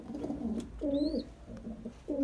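Homing pigeons coo from a cage in repeated soft, throaty phrases with short pauses between them, fairly close, with no talking.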